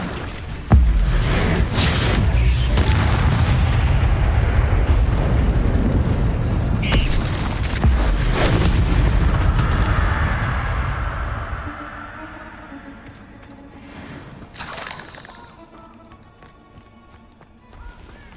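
Confringo spell blasts in the Hogwarts Legacy video game, loud booming bursts with rumbling decay and sharp impacts, the heavy clamor fading toward the end.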